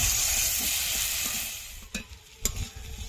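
Vegetables and spices for a singi fish curry with potato, green banana and thankuni leaves sautéing in a pan: a steady close sizzle that fades slightly, broken by two sharp scraping stirs of the spatula near the end.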